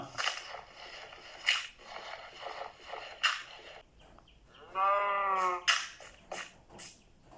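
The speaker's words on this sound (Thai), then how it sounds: "ผมเจอแกะครับ" A single Minecraft sheep lets out one wavering, nasal bleat in the middle, framed by scattered clicks and short bursts of game noise at low volume.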